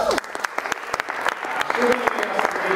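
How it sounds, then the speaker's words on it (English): Small group applauding on a cricket talk show, a handful of distinct claps at first building into a denser patter of clapping, close and moderately loud. "Round of applause for Sass."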